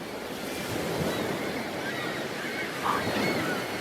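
Ocean waves washing onto a shore, a steady broadband surf roar with gentle swells and some wind across the microphone, continuous and fairly close, with no talking.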